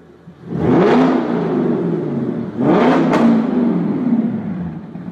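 Two loud, close revs come from an Audi S5 4.2 V8 Quattro fitted with an Armytrix exhaust, valves open, each one surging sharply and then settling into a rasping drone.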